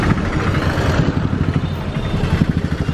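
Motorcycle engines idling and revving close by at a crowded Indian railway crossing, a loud, steady rumbling drone with rapid pulsing throb, no voices over it.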